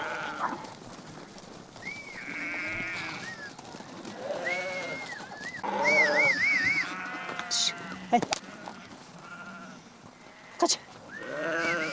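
Many sheep and lambs bleat repeatedly at varied pitches near and far in a herding camp, with people talking in between.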